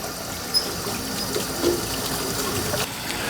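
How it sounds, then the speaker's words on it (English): Water running steadily from an opened sink faucet during a hybrid water-heater installation, a continuous moderate hiss with a few small splashes and clunks, no talking. "Then we go over to a sink and open the faucet."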